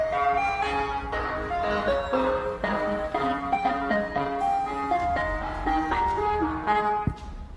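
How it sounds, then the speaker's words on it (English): An ice cream truck blares a tinny electronic Yankee Doodle melody at night while making a U-turn on a dark road, the tune loud and continuous with faint engine rumble underneath. "what looks like an ice cream truck making a U-turn on her road in the darkness"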